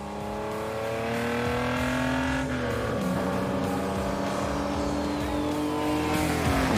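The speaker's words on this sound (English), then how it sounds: "The sound when downshifting is really fun." A vintage 1970s Alpina BMW race car engine revs hard and steadily, its pitch dipping through a downshift before climbing again, loud and close throughout with no talk over it.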